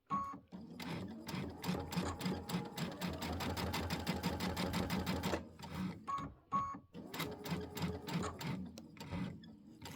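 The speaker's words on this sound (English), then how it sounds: "now I'm going to fold, I'm going to sew down to that center mark" A sewing machine stitches quilted Christmas fabric toward a center mark, its rapid rhythmic needle clatter running loud and close in several continuous bursts with short stops.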